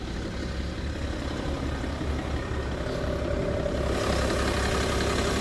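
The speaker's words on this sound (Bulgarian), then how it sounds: "Двигателя работи добре." A car engine with its DPF and catalytic converter removed and a downpipe fitted idles steadily nearby, a constant low rumble that grows slightly louder near the end.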